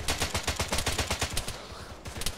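Automatic gunfire in the video game Arma 3, a fast steady burst of loud close shots lasting a couple of seconds, with a short pause and a few more rounds at the end.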